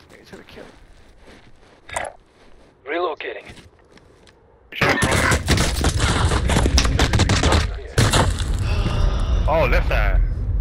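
Gunfire in a shooter video game: quieter voices and scattered sounds at first, then dense, loud, sustained bursts of shots from about the midpoint to the end.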